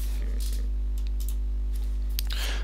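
Someone types a password on a computer keyboard, with a few scattered key clicks in short bursts over a constant low electrical hum.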